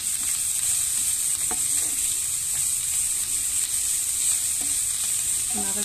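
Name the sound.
onions frying in a pan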